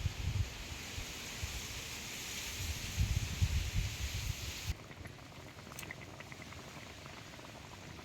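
Potato and gram-flour gravy bubbling to a rolling boil in a pot at an outdoor village kitchen, a steady soft rumble and gurgle that drops noticeably quieter partway through, with no voices.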